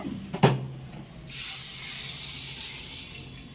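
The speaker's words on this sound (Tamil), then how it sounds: "நான் எவ்வளோ எடுத்துருக்கேனோ அதுக்கேற்ற மாதிரி நான் தண்ணி ஊற்றிக்கிறேன்." Water poured into a pot of soaking rice for mutton biryani, starting with a brief splash and clunk, then settling into a steady, moderately loud hiss of pouring that runs to the end.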